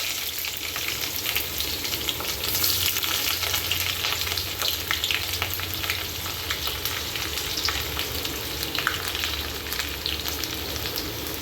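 Sliced onion and four green chillies sautéing in a pan for vegetable fried rice give a steady, dense sizzle that stays even throughout, close and with no voices.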